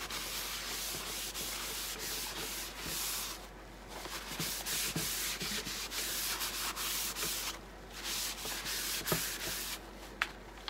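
Scrap wood being sanded for rustic farmhouse decor, a continuous gritty rasp of abrasive strokes with brief pauses, close and fairly quiet, with no talking.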